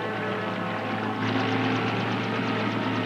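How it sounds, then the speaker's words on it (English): A helicopter settles toward a rendezvous point at sea near a whale research vessel, its rotor and engine forming a loud steady drone whose pulsing chop strengthens partway through. "the helicopter is settling to pick me up at the rendezvous point"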